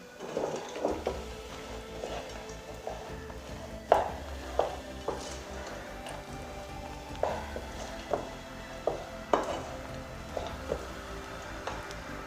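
Peanuts being stirred into hot sugar syrup for peanut candy: close, irregular spoon knocks and scrapes against the pan, spaced about a second apart over a low, steady background hum, with no voices.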